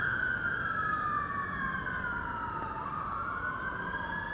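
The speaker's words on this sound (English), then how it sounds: "As the sirens go off around London." Distant emergency sirens wail across London, their pitch slowly sweeping and overlapping over a steady background rumble.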